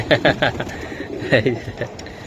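A large silver giribaz pigeon coos in short throaty bursts, several quick calls then a pause and a few more, close by with background murmur.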